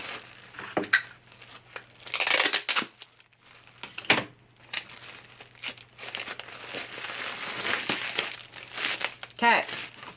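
Plastic wrap crinkles and crunches around liquid pump bottles as they are packed for shipping, in close, irregular bursts throughout. A low steady hum sits underneath.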